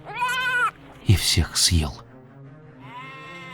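Cartoon goat crying out in quavering, drawn-out bleats, one at the start and another near the end, with a narrator's voice speaking in between.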